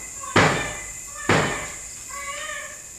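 Two sharp, loud door slams ring out in a reportedly haunted mansion, about a second apart. Each bang has a short reverberant tail, followed by faint creaking.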